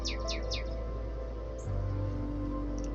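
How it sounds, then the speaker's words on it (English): A bird chirps outdoors: a quick run of three or four faint, high chirps near the start over a steady low background hum, followed by near silence and a brief faint note later. "I don't know if you can hear that bird"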